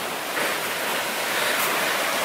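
Rushing water of Nineteen Mile Brook in winter, a dense, steady hiss and roar of flowing stream water that is loud and close, with no voices.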